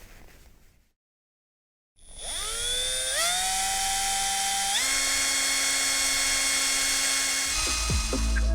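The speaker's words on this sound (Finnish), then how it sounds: "Me porataan näihin valmiiksi jo kiinnitysreijät" A power drill drills mounting holes in parts for a DIY van roof rack, a steady loud whine that starts after a brief silence and climbs in pitch as the motor spins up, holding continuously to the end.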